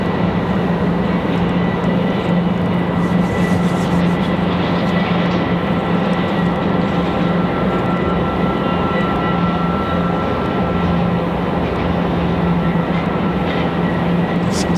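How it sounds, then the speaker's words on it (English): Airbus A300 jet heading toward Louisville at Raleigh-Durham airport, a loud continuous engine drone with a steady low hum and tonal whine throughout, no voices. "The A300 coming at us,"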